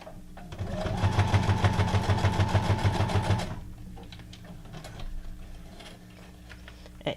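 A sewing machine stitches through Christmas paper ephemera tags, running in a fast, even mechanical chatter for about three seconds before stopping, followed by quiet handling noises, close and clear.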